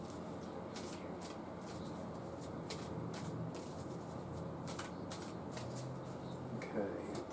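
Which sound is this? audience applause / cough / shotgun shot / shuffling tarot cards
shuffling tarot cards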